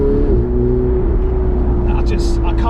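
A Ferrari 488 Spider cruising on country roads, its engine a steady, close drone with a constant hum throughout, and a voice talking over it.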